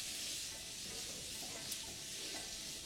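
Chopped onions fry in a pan with a steady, close hiss of sizzling oil that holds evenly throughout, with faint stirring scrapes underneath.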